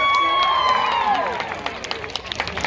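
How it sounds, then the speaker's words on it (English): Audience at a West Midlands Safari Park sea lion show cheering and clapping, a loud crowd roar with children's shouts that fades into scattered applause and whistles. "So we'll give them a big cheer"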